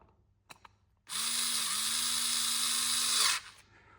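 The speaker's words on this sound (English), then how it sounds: "we will wind in the screws." A power tool runs in one steady, continuous whir for about two seconds while driving screws into a Jikov fuel pump from a 1979 Škoda 120 LS, preceded by a couple of faint clicks and ending abruptly.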